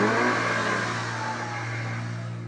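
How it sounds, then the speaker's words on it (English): A car engine revs hard and steady as the tires spin, a loud, continuous roar and hiss that eases off slightly toward the end. "I hear the terrible sound of tires not making connection with the ground"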